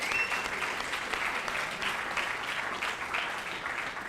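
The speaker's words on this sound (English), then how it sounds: "I'd like you to give your parents a round of applause" An audience at a high school academic awards ceremony applauds the parents with steady, dense clapping that carries through the whole stretch at a moderate distance.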